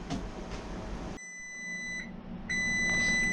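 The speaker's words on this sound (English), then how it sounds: "the timer's going off again" Steady electronic beeps from an oven timer during a two-hour roast of a honey and herb crusted boneless turkey breast, high pure tones sounding in short bursts over faint kitchen background.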